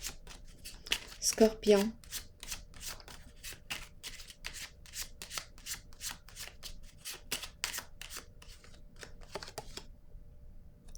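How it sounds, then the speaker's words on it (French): Tarot cards riffled and shuffled in a rapid run of crisp papery flutters, then single cards slid and drawn, close and clear under someone speaking. "Je vais piger une autre carte."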